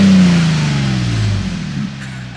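A 2022 Toyota Tundra with a Carven cat-back exhaust blips its engine, a loud deep burst whose pitch sinks steadily as the revs fall back toward idle, heard close with no talk.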